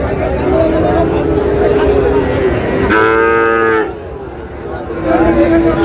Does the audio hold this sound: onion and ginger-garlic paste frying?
no